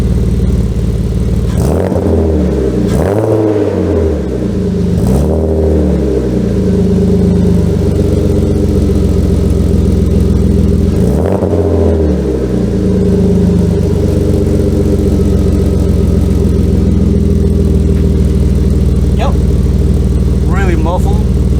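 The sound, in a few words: car engine revving through sport exhaust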